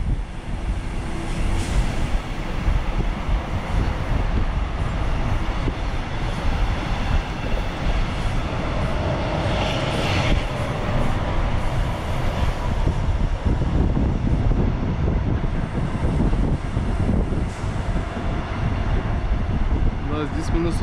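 A Rola rail-freight train carrying trucks across Austria in freezing weather, heard from on board as a loud, continuous rumble of wheels and wagons with steady rolling noise throughout.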